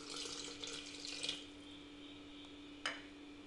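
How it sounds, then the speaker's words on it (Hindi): Water pours in a quiet stream into a mixer jar of gram flour and yogurt batter, splashing softly, then a brief clink near the end. "पानी डालेंगे आधा बाउल"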